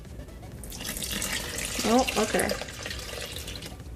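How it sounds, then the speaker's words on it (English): Water poured into a small bowl for a beginner's sourdough loaf, a steady splashing stream that swells briefly in the middle, with a person murmuring quietly nearby. "now after I add the starter, I'm gonna add in all the water"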